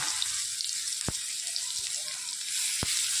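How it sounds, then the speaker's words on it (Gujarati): Mustard seeds, asafoetida and onion sizzling in hot oil in a pan, a steady bright hiss with two sharp pops, close and with no voice. "રાઈ તતરી જાય એટલે થોડીક આપણે હિંગ નાખીએ અને અંદર થોડીક ડુંગળી"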